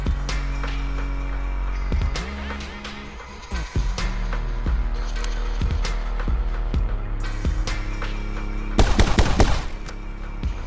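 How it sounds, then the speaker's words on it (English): Gunshots ring out at vases in the My Friend Pedro video game, several sharp shots spread across the clip with a louder cluster of rapid fire near the end, over a steady musical backdrop. "Shoot these vases by separating your aim."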